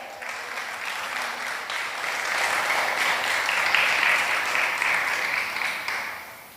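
A church congregation applauds in worship, steady dense clapping from many hands that swells gradually toward the middle and then tapers off, with no voices over it.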